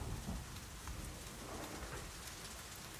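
A storm in Geneva in summer 1816, with steady heavy rain hissing on surfaces and a low rumble of thunder underneath, continuous and enveloping, with no voices.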